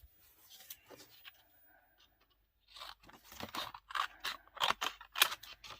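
Small scissors snipping through paper, a quiet lone cut at first, then a run of crisp, close, rhythmic snips growing louder, with no voices.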